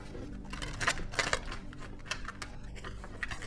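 A deck of tarot cards is shuffled close up, giving irregular papery riffles and soft snapping bursts at an uneven pace with no voices over them.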